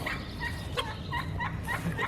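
Turkeys gobble on a farm in a run of short, repeated calls over a steady low background, fairly close and moderately loud.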